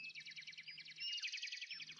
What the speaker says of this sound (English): Turtle heard the birds chirping from a tree branch above him